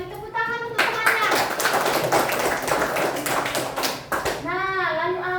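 Schoolchildren in a classroom clap together for a classmate, a dense burst of rhythmic hand claps with young voices talking and calling over it.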